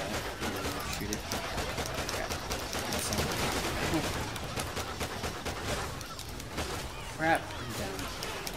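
Video game gunfire in Call of Duty Ghosts Extinction aimed at a thrown propane tank, with steady rattling shots and battle noise running throughout, loud and dense, while players talk over it.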